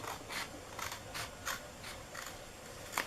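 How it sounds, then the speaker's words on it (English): Small scissors snip through a cardboard flap on a candle gift box, several crisp, evenly spaced cuts in a row, close and clear with no talking. "I think I need the little scissors for this,"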